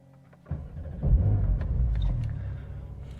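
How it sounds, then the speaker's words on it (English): A 2021 Porsche 911 Turbo flat-six turbocharged engine cranks and fires up, jumping to a muted, subdued idle rumble that swells briefly and then settles, heard from inside the cabin. "you can hear when the car starts up, it doesn't really sound like that much"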